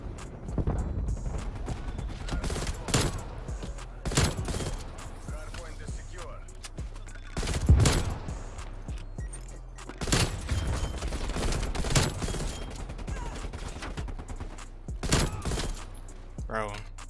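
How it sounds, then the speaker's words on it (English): Rifle fire from an M16 in Call of Duty: Cold War comes in repeated loud bursts, with several separate volleys spread across the stretch and brief quieter gaps between them. "teammate, shoot your gun"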